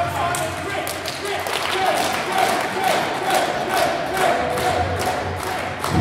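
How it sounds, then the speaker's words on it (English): Crowd at a live wrestling show applauding after a clean break between wrestlers, a continuous clatter of clapping and cheering from the audience heard beneath a commentator's voice. "Big round of applause, Kris Kay, nice clean break."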